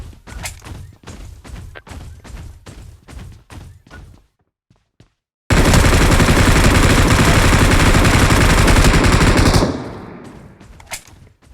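Automatic gunfire in the mobile battle game BGMI: rapid rhythmic shots for several seconds, a brief silence, then a loud, dense sustained burst of fire that tapers off.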